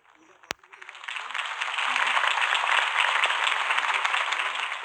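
A crowd in a Batman Telltale game applauds Harvey Dent's campaign speech. After a single sharp clap, the applause swells into steady, dense clapping that stays loud and continuous to the end.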